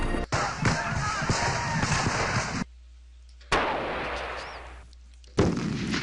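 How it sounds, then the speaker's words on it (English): Booming cannon shots from the Civil War Generals 2 video game ring out in two loud, close bursts with reverberant tails, separated by brief silence, and a third blast starts at the end. "They always show artillery fire after he gets shot."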